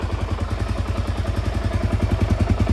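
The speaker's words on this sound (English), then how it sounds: "blip the throttle a little bit and it wants to go" A Suzuki DRZ400S single-cylinder engine running in gear with a Rekluse RadiusX auto clutch, a loud, close, rapid steady thumping idle that swells only slightly toward the end.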